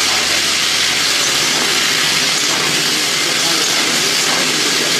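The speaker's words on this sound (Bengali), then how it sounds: "5 ফোড়ন আর শুকনো লঙ্কার মধ্যে উচ্ছে আলুটা দিয়ে দিলাম।" Bitter gourd and potato frying in hot oil with five-spice and dried chilli, a loud dense sizzling hiss that holds steady from start to finish.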